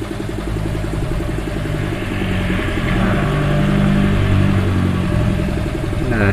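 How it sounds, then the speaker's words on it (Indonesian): Yamaha Vixion motorcycle engine revving up steadily after a service, a loud, continuous close-up roar with rising throttle and no talking. "Coba kita gas."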